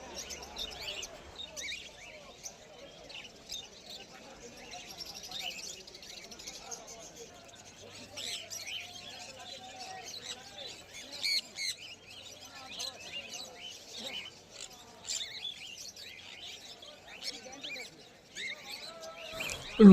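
Many caged cockatiels and finches at a busy pet market chirp and tweet continuously, bright overlapping calls under a voice talking throughout.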